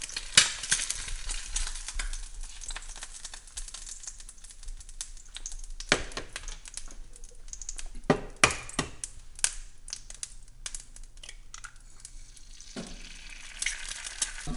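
An egg fries in a home kitchen pan, a continuous crackling sizzle with scattered pops and occasional scrapes of a utensil, close and fairly loud, with no talking.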